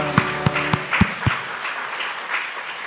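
A church congregation at an Easter Sunday service claps in praise, with several distinct, loud claps early on that soften into a fainter, diffuse wash of clapping and room noise.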